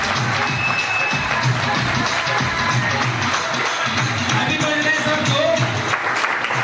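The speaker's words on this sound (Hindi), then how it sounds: "एक बार जबरदस्त तालियां रविंद्र कुमार शेट्टी जी की शेयरिंग में।" Steady applause from an audience at a multi-level-marketing leadership training session in Meerut, even continuous clapping throughout with a few voices speaking over it.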